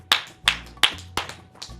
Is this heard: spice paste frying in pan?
no